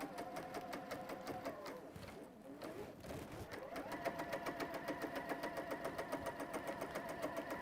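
A sewing machine runs steadily, stitching fabric around curves, its fast even needle rhythm close and continuous throughout, swelling slightly louder in the second half.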